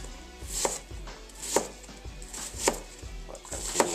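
A sharp knife chopping food on a board, about seven evenly spaced crisp cuts, each with a clack, close and fairly loud with no talk.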